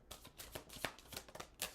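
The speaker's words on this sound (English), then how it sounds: "I'm going to shuffle again though" Tarot cards being shuffled by hand in a quiet room, a quick run of close, crisp riffling and flicking bursts with no talk.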